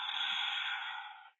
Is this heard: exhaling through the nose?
yes